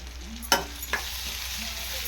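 A Telugu curry cooks in oil on a low stove flame, giving a steady soft sizzle and fry hiss, broken by two sharp stirring clacks of a utensil against the pan.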